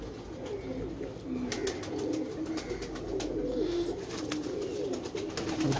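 Soft, repeated pigeon cooing in a low murmuring rhythm, steady throughout, with faint background noise and a few clicks.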